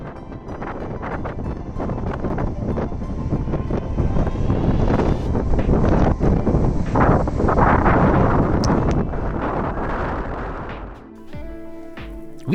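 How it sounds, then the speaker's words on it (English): Strong coastal wind buffets the microphone at Lahinch, a surfing town on the Irish coast, a loud continuous roaring rumble that swells and eases before dropping away near the end. "it can be quite windy"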